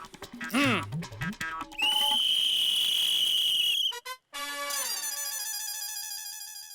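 A police whistle gives one long, shrill, steady blast in a comedy scene, set between busier bursts of sound before and after.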